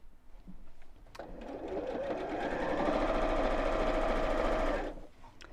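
A sewing machine stitches a seam on a bag, a dense buzzing run that starts abruptly, holds steady for about four seconds and stops, close and loud against a quiet room.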